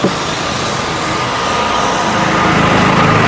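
A large diesel vehicle engine runs at a steady idle, giving a constant close hum with a faint tonal whine and no talking.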